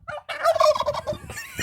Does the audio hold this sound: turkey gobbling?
yes